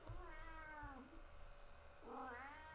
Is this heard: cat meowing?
yes